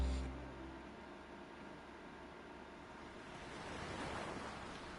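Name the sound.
ocean waves, from video game World End Syndrome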